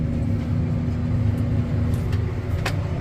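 Tractor engine revving steadily while seeding green feed oats in a field, a loud, continuous low rumble with a faint rise in pitch and a few light clanks near the end.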